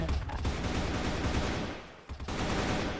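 Gunfire in a shooting video game: dense, rapid bursts of shots crackling almost continuously, with a brief gap near the end, at fairly low volume and with no clear talk.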